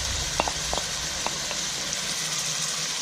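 Chillies, grated garlic and a big knob of grated ginger fry in a hot pan with a steady, close, even sizzle and a few faint clicks, with no talking.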